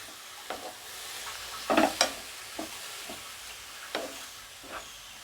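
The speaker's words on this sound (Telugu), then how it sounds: "మనంతా సిమ్లోనే ఉంచుకొని ముందు ఈ తురుముని ఫ్రై చేసుకోవాలి" Grated pumpkin frying on low heat for a sweet, a faint hissing sizzle under intermittent spoon scrapes and taps, fairly quiet and close, no voices.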